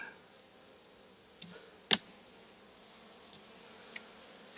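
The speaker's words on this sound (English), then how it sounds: "And a lot of pissed off bees now." A faint, continuous buzz of angry bees around an opened hive hovers in the background, broken by a few sharp clicks and knocks, with no one speaking.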